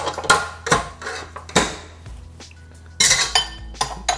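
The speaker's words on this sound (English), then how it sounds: "then snap the work bowl into the mixer" A stand mixer's metal work bowl clanks and clicks into place, several sharp knocks and rattles of metal against metal, close and loud with short pauses between.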